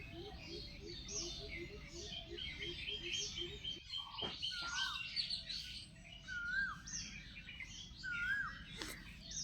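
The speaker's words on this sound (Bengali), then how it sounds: "তার আগে একটু কোকিলের ডাক শোনাই" A cuckoo calls in the countryside in spring amid other birds, with repeated rising whistled notes and chirps sounding fairly distant over a soft, steady background rumble, with no talk.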